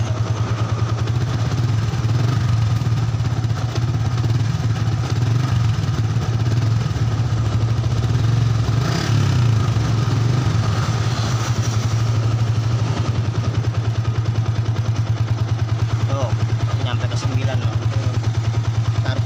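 Yamaha Vixion motorcycle engine running with a faulty regulator-rectifier, a steady close idle with a low droning hum and a brief throttle rise near the middle, continuous for the whole stretch.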